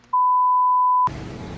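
A single steady electronic fire alarm beep holds one pitch for about a second, loud and alone, then cuts off into a burst of broadband noise.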